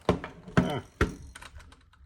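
Three sharp keystrokes on a Keychron V8 mechanical keyboard, evenly spaced about half a second apart, close and fairly loud in a quiet room, followed by faint softer taps.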